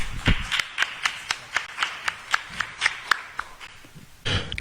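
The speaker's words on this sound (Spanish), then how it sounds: "Le damos la bienvenida con un fuerte aplauso." Audience applause welcoming a speaker at a university lecture: a few spaced, sharp claps in a steady rhythm rather than full applause, fairly close, with a brief louder burst at the end and no talk.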